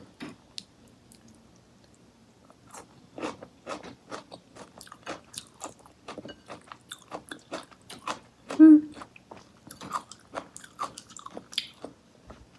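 Crisp blanched white asparagus bitten and chewed close to the microphone, a quiet run of crunchy, moist bites and chews in an irregular rhythm, with one brief louder vocal sound partway through.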